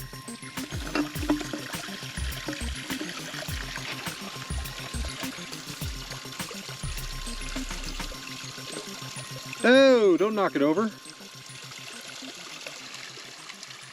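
A mountain stream near the Rocky Mountain National Park border trickles and babbles steadily on a trail, with a voice speaking briefly over the flow and a short burst of a warbling whistle-like sound partway through.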